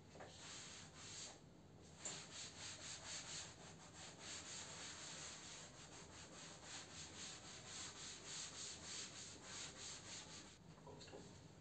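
A board eraser rubbing chalk writing off a classroom board gives a continuous scratchy scrubbing with rhythmic back-and-forth strokes, close and steady throughout, with no talk over it.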